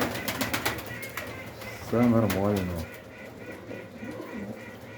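Domestic pigeons coo softly in the background, low and steady, while someone talks over them through most of the stretch.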